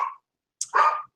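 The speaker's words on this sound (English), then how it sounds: "Every time my dogs bark, it drives me nuts." Pet dogs barking indoors, a short bark followed by a louder, longer bark after a brief pause, close and clear with no talking.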